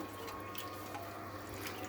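Tap water runs steadily while coriander leaves are washed, a soft continuous splashing trickle heard close and alone, with no talking.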